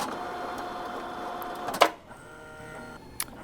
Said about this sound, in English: We're going to print a test card from our 6600 to give you an idea of how those cards look coming out of